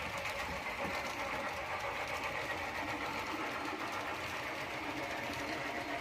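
Trix Big Boy model locomotive, Trix 23951 with a sound decoder, running on a model railway layout; a steady, faint mechanical whirring and chuffing hum continues throughout with no voices.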